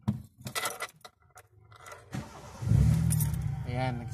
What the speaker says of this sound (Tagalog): Umandar na yung makina natin